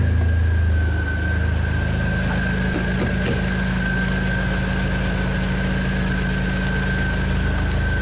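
A modified Audi A4 idles steadily after a crank no-start repair, a constant low engine hum with a thin high whine running through it, close and alone with no talk.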